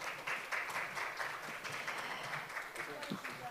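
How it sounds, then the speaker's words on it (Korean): Audience applause at the close of a session of the 2022 Jeju Plus International Environmental Forum, a steady wash of clapping from a large room that carries on evenly for the whole stretch. "다시 한번 오늘 함께해 주신 모든 분들 위해서 다시 한번 큰 박수 부탁드립니다"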